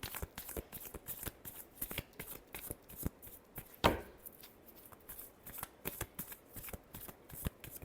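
Tarot cards are shuffled up close, a quick run of crisp riffling flutters and soft slaps repeating at a steady pace, quiet and with no talking.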